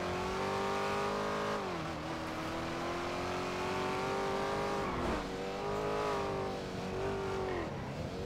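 A car engine in a video game drones steadily at high revs, its pitch holding then dipping briefly at gear changes before climbing again, loud and continuous throughout with no talk over it.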